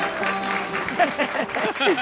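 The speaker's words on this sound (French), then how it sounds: "Ça, c'est de l'applaudissement qui lance" A studio audience on a French TV show applauds, a dense, continuous patter of clapping with voices and chatter mixed in throughout.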